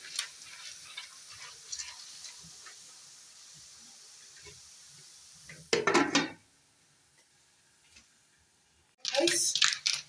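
Mango popcorn is stirred in a pan, with two sharp bursts of scraping and clattering against the metal amid soft hiss and quiet talk.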